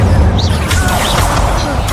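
A fire spell is cast in Hogwarts Legacy: a dense, loud burst of booming, whooshing game effects with a low rumble that fills the whole moment.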